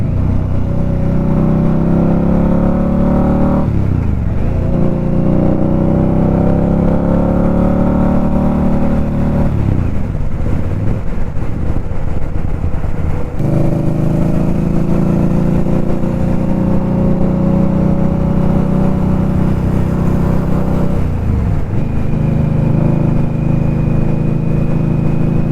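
An 1100cc superbike engine roars loudly and steadily while riding, rising through revs in long pulls with brief dips at each gear change, close and continuous throughout.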